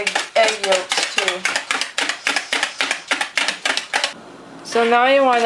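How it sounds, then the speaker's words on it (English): Egg yolks being stirred with hot water in a bowl, a quick steady run of clinking strokes, close and loud, before the stirring stops and a voice briefly speaks at the end. "So now you want to stir the egg yolks and the hot water until it's all nice and foamy."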